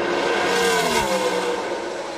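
NASCAR stock cars roaring around Indianapolis Motor Speedway on the final lap, a loud, continuous engine drone with a rising and falling pass-by sweep near the middle and no talk.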